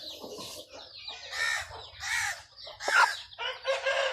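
A young pure Mianwali Aseel rooster, about eight months old, gives a series of close, loud crows and clucking calls in quick succession, with no talking over them.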